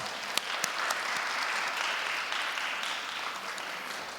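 Applause from the audience at a blessing festival ceremony, a dense, even round of clapping filling the space and holding steady throughout.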